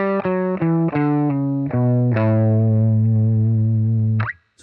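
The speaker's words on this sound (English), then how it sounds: "But if I just played the notes of a Mixolydian, it would actually sound like this." Electric guitar plays single notes of a Mixolydian scale, a quick run of separate plucked notes rising and falling that settles into one long sustained tone and ends with a short slide.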